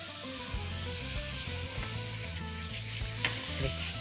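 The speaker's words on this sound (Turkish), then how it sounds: "Bakın hemen cızırdadı." Steady, loud sizzling of chicken pieces frying in oil in a hot pan, a continuous crackling hiss with occasional sharper pops, no voices.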